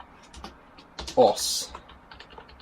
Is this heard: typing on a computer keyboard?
yes